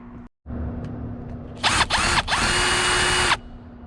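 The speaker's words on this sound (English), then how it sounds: "now we're going to loosen up that torque connection" A power tool loosens the steering wheel bolt on a second-generation Toyota Tacoma, with short whirring bursts followed by one longer, sustained run of the tool, close and loud.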